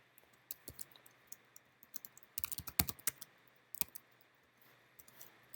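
Someone types code on a computer keyboard, producing a quick, uneven run of close key clicks. A dense burst comes midway, then scattered taps follow over a steady low hum.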